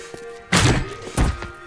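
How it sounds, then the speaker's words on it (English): Zombie in the video game Postal 2 launching small artillery-cannon projectiles, two loud, heavy thunks about half a second apart, each a short booming blast standing alone without talk. "they can only shoot this thing at me like small artillery cannons"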